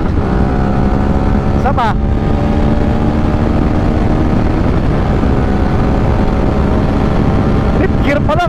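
A Honda Africa Twin motorcycle engine roars loudly and continuously while riding, pushed hard toward its rev limit, with heavy wind rush and a short spoken phrase at the end.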